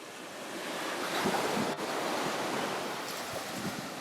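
Waves break steadily on the golden sand of Waitukubuli Beach on Dominica's east coast, a continuous broad surf wash mixed with some wind, with no voices.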